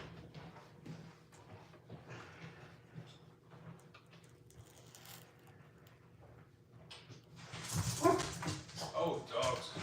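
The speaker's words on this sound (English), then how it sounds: "Oh, dogs, hush." Dogs bark and whimper near an outdoor grill being started, with talk going on throughout and louder, busier sound toward the end.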